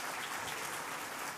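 An audience claps after a presentation on technical mastery and artistic vision in gaming, a brief, dense and steady round of applause heard from within the hall, fairly soft and without voices.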